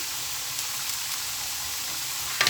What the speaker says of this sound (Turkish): bir taraftan da soğanlarımı kavuruyorum burada